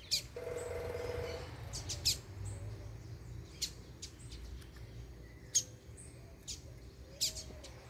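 Female collared seedeater (gola) giving short, sharp chirps in several spaced bursts, faint against a quiet outdoor background with a low hum.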